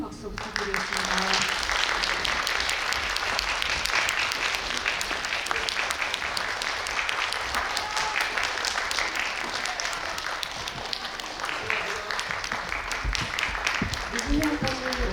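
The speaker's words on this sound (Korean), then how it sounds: "퇴장하실 때까지 큰 박수 부탁드리겠습니다." A cinema audience applauds at a film guest-visit event in Lotte Cinema World Tower, a dense sustained clapping crowd that continues for many seconds with occasional voices over it.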